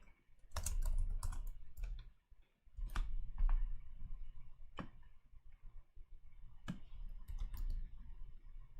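Rapid clicking of computer keyboard keys, bursts of typing and shortcut presses close to the microphone over a low background hum, with no talk.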